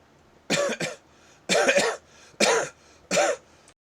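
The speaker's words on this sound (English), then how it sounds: "I do be coughing up saliva." A person with a wet-sounding chest coughs and clears their throat in four separate bursts, loud and close, with short pauses between them.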